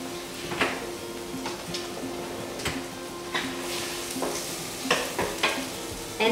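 Onions and garlic sautéing in a pan for stuffed peppers, an even background sizzle with a spoon scraping and knocking the pan every second or so, close and unaccompanied by speech.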